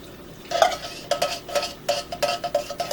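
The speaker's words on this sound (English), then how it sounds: "Now make sure you stir it." A spoon scrapes and clinks against a pot while coconut milk is stirred into Thai green curry, making a steady series of soft knocks and swishes, with no talking.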